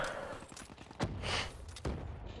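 Shots in a multiplayer shooter game ring out over steady game noise, with two distinct louder blasts about a second apart.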